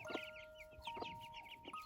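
Soft, repeated clucking from Silkie chickens and chicks, fairly close, with a steady electrical hum running underneath.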